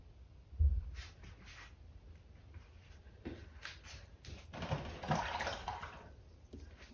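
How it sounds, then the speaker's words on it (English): Water sloshing and splashing as a paintbrush is rinsed out between strokes of an acrylic painting, with a low thump at the start and a busier stretch of swishing near the end, close and fairly quiet. "Rinsing out my brush again."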